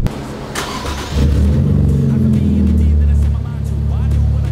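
A Nissan 400Z with a custom exhaust and no tune runs on a dyno: the engine steps up from idle into a loud, steady, droning rev that holds for several seconds, then eases slightly, close by.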